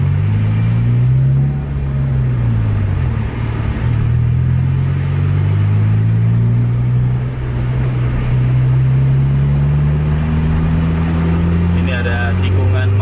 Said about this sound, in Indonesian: Ini di belakang kita juga ada bus nih.